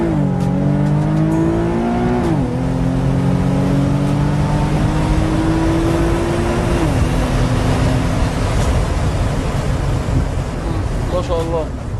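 A car with paddle shifters accelerates hard, the engine tone climbing and dropping sharply at a gear change before climbing again, close and loud over steady wind rush.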